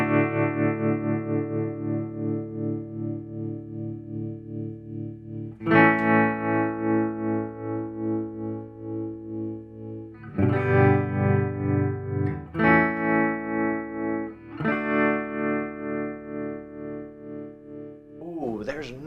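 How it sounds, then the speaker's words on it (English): Electric guitar through a JHS Kodiak tremolo pedal, compared against a Positive Grid Spark modelled tone: sustained chords pulse in rhythmic volume swells, with several fresh strums at steady intervals, loud and close, no talking. "To be fair, the Kodiak is a tremolo machine."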